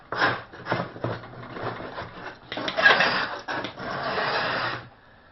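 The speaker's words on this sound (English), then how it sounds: "I use the profiled scraper to scrape off the profile of the sash" A profiled scraper rasps paint off the molded profile of a wooden window sash: several short scraping strokes, then a longer sustained scrape, close and fairly loud.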